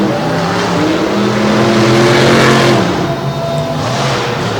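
A Ford monster truck engine roars loudly as the truck races around a track at a monster truck event in Madison, Wisconsin, its revs rising and falling continuously, with a harsh, steady drone and no talk over it.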